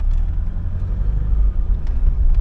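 Lada Niva driving after a shift into the high transfer-case range, a low steady engine and drivetrain rumble heard from inside the car, continuous with no voices.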